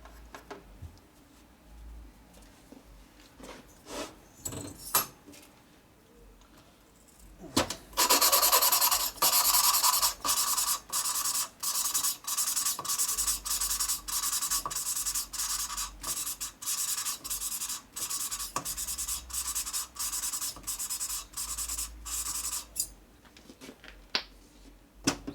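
Valve lapping on a 2001 Gilroy Indian Chief engine rebuild, using lapping compound: a loud, steady gritty rasping with rapid back-and-forth strokes that starts after a few quiet handling sounds and runs for about fifteen seconds before stopping.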